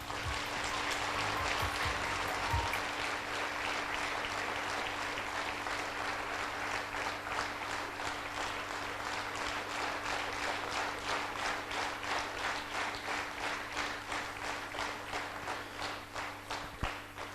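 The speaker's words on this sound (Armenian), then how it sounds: "ծափահարություններ" An audience at an Armenian memorial evening claps, starting as a dense wash and settling into steady rhythmic unison clapping, heard faint and distant over a low electrical hum.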